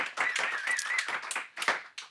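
An audience at a talk breaks into brief applause, a burst of close, bright clapping from several people that thins out and stops after about two seconds.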